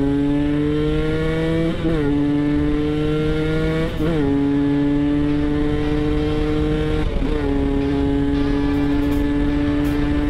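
A 250cc V-twin motorcycle engine idles loud and close, then blips the throttle three times, each rev sweeping sharply up before settling back to a steady harmonic idle, with no talking.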